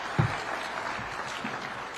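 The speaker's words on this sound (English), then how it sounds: "One more round of applause for His Excellency." An audience applauding after President Ruto's speech at the Engineering Partnerships Convention 2023 in Naivasha: steady, moderately loud clapping from a crowd throughout.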